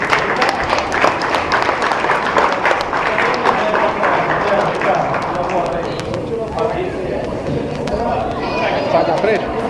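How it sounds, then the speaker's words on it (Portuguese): Graduation crowd giving a round of applause for two graduates: dense, loud clapping mixed with overlapping voices and chatter, tapering slightly midway then swelling again. "eu quero pedir uma salva de palmas aqui de todo mundo, para a Fabrícia e para a Edna"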